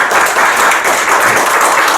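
A seated audience at a filial-piety academic forum gives a burst of dense, loud applause, with many hands clapping steadily for the full stretch.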